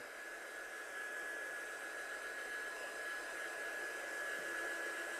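A hair dryer or heat tool blows steadily on a stamped handmade card detail panel, a constant close whooshing rush with a faint high whine running through it, holding alone for several seconds.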